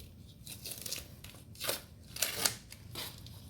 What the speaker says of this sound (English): we're going to go ahead and take off our tape